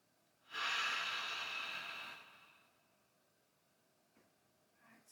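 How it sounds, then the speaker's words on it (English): A person doing seated chair yoga lets out one long, audible breath, a close airy rush lasting about two seconds that fades away, followed by faint quiet breathing. "take one more big inhale through the nose and a full releasing exhale through the mouth"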